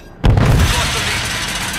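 A grenade blast in Call of Duty booms suddenly after a quiet moment, its loud low-heavy burst rolling into a sustained rumble and din of battle that stays strong to the end.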